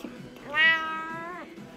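A Persian cat gives one drawn-out, tonal meow close by, rising and then holding steady before it fades, with no one talking over it.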